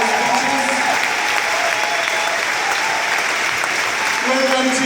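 Dense, steady applause from an audience thanking sign language interpreters at an evening event, continuous clapping throughout with no break.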